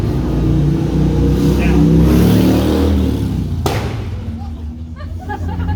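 A loud car with no muffler roars past on a street in Orange during an evening ghost walk, its raw revving engine loud and close, fading as it goes by.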